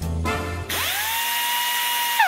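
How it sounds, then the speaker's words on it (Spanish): An electric drill spins up with a steady high whine, running continuously for about two seconds after a short burst of other sound, then winds down at the end. "¿Cansado de que su taladro no funcione y lo deje a mitad?"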